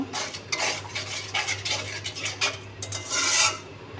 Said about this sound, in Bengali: মরিচি গুঁড়া ধনিয়া গুঁড়া জিরা গুঁড়া ভালো করে মিশিয়ে নিব